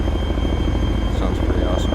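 A US military helicopter in ArmA 3 gives off a steady low rotor drone with engine whine, close and continuous for a couple of seconds.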